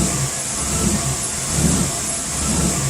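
A truck engine runs steadily after its mass airflow sensor is refitted, a dense, continuous mid-pitched drone with slight swells in revs, close and fairly loud with no talk.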